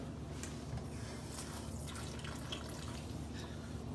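Running tap water rinses a titanium grapefruit knife in a sink, a steady close splashing and dripping stream that holds evenly throughout without any talking.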